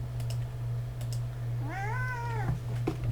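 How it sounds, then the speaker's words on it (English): A pet cat meows once, a single clear drawn-out mew rising and falling, heard close over a steady low computer hum with scattered faint keyboard clicks around it. "And that was my cat."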